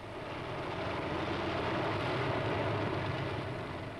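A steady, droning aircraft engine hums continuously with a low rumble, sounding like a propeller plane cruising nearby, with no voices.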